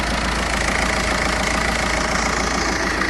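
A Peugeot 308 e-HDI diesel engine running steadily after a fuse box replacement, a constant close idling drone with a faint knocking rhythm and no talk.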